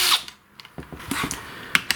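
A T27 Torx screwdriver backing out the recoil screws on a Stihl MS271 chainsaw, heard as a close series of sharp metallic clicks and ratchety taps in an irregular rhythm.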